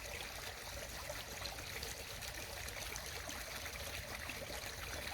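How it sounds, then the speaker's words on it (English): A small stream trickles over stones outdoors, a continuous soft babble and splash that stays even and close throughout, with no voices. "this wee stream going down here"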